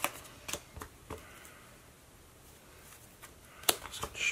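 Cardfight Vanguard trading cards are shuffled by hand during a tabletop match, producing several quick papery riffles and snaps in irregular bursts, close and fairly quiet, with no talking.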